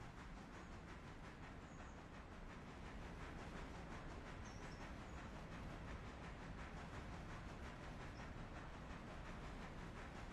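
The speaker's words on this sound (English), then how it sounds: "Love watching a long train snake through track." A long train rolls steadily along the track, heard as a faint, continuous rumbling with a regular rhythmic clatter of wheels and no voices over it.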